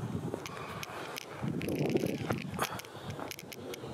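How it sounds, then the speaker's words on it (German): Strong wind buffets the microphone outdoors in cold weather, giving a rough, uneven rumble that swells and fades, with scattered clicks and rustles and no talk. "Der Wind geht wie Sau."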